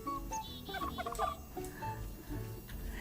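Bird in the Luma Island farming video game: a series of short chirps and clucking, warbling calls, fowl-like and fairly faint, repeating irregularly over a soft background.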